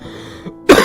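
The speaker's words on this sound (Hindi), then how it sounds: "बहुत खांसी हो रही है" A single sharp, loud cough bursts out after a brief quiet stretch, close and abrupt.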